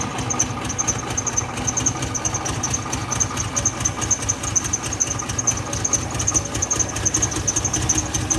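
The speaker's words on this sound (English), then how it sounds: "at least it's trying to idle now" A Ford F-150 with the 300 cubic-inch 4.9-liter straight-six struggles to idle, its loud, steady engine drone broken by irregular knocking pulses and a faint high squeal running throughout.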